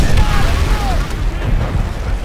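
A grenade goes off in Call of Duty: World at War, a loud near boom with a rumbling tail that keeps going under game battle noise and brief voices.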